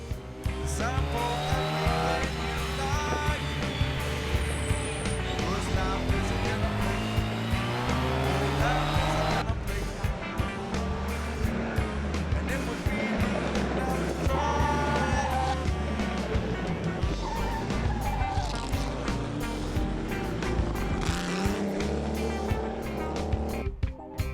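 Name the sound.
small race car driving on a circuit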